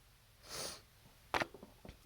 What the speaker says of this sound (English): And I'm sorry about all this sniffling. I'm having allergy problems.